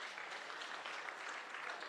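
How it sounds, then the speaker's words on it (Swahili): A crowd at an ODM party leaders' address claps for the committee in a steady, even round of applause, heard somewhat distant and soft throughout. "Simpigie makofi hii committee"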